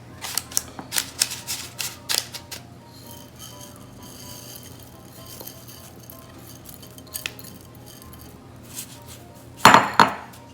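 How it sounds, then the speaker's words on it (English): Dry rice grains poured into a pastry tart shell as pie weights, a scattered patter of small clicks and rattles with a heavier clatter burst near the end, close and alone. "I'm just going to add some weight just so it doesn't rise up. This is just rice."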